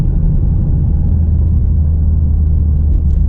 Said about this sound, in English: the car sounds freaking amazing